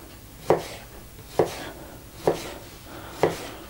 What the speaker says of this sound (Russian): Огурец не... ломается, все нарезается